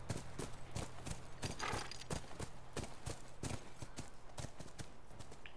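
Horse hooves clip-clop steadily at a regular walking rhythm in The Last of Us Remastered on PS4, set on a farm, with a faint background hum running underneath.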